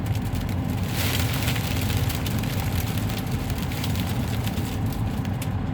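Strong wind in Denver blowing sand against a truck, a dense, continuous hissing roar with gusty surges throughout, loud and unbroken, no voices.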